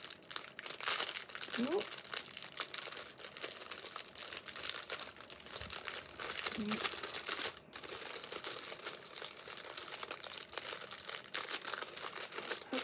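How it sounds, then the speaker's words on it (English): Packaging around 50% linen cotton fabric made in England crinkles and rustles in sharp, irregular bursts close by, continuing for several seconds. A voice briefly exclaims over it. "Sorry about the crinkling."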